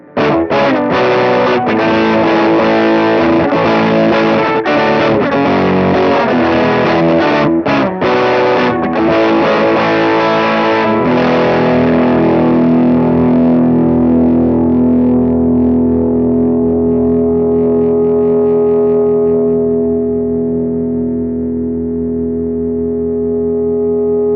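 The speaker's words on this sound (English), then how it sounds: "let's hear it with the drive engaged on the bridge" Jazzmaster electric guitar on its bridge pickup with drive engaged plays loud, gritty chords and quick picked notes, then lets a final distorted chord ring and slowly decay on its own.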